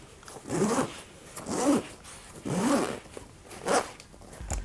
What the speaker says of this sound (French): C'est la première fois que je fais de l'ASMR avec une fermeture éclair quand même.